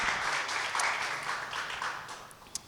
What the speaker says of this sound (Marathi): टाळ्या वाजूया त्यासाठी